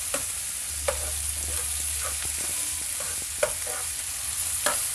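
Squash and mushrooms stirred while cooking in a pan with bagongon shellfish, giving a steady sizzle with a low bubbling rumble and a few sharp scrapes and knocks of the utensil. No one speaks.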